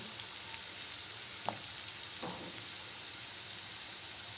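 Onions sauté in a pan with a soft, steady sizzle that stays fairly quiet, broken by a couple of brief stirring scrapes and clicks.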